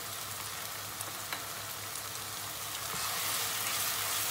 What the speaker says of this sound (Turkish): Karıştırmaya devam ediyoruz.